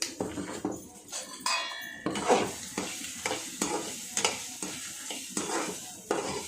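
Grated coconut stirred in a frying pan, a spoon scraping and tapping the pan in regular strokes about twice a second over a soft sizzle, close and clear.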